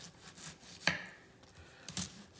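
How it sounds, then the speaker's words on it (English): A knife slices a vegetable with its root left intact, making a few soft, brief cuts and scrapes on a board, quiet and close with gaps between strokes. "what I'm going to be doing is I'm going to be slicing it"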